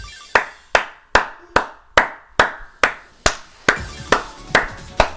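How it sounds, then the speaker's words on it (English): Sharp, loud claps in the video game Vivid Stasis, about a dozen evenly spaced strikes, each ringing out with a short reverberant tail. "It's a loud clap"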